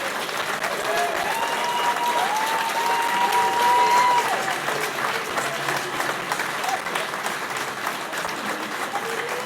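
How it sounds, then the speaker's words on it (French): An audience at a 2024 New Year's wishes ceremony applauds steadily for several seconds, a dense wash of clapping that peaks briefly midway and then settles. "tu pourras bénéficier de ces applaudissements"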